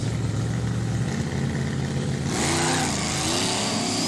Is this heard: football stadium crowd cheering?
no